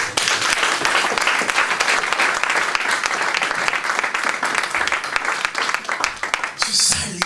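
A church congregation breaks into loud, sustained applause, dense clapping filling the room for several seconds with scattered voices and cheers mixed in.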